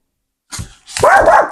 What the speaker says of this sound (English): my dog is barking at dogs